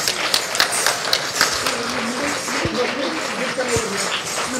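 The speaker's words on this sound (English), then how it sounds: "Another round of applause for Vinay Srinivasan." An audience at an all-day Shiva event claps for a guest called to the stage, steady moderate applause heard alongside talking voices.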